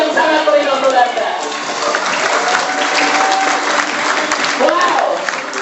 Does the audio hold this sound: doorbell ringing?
no